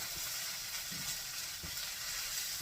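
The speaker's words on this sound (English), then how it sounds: "I'm going to let this fry and those to get crispy a little bit" Hashbrowns fry in a skillet with a soft, even sizzle and crackle, steady and fairly quiet with a few faint clunks underneath and no talking.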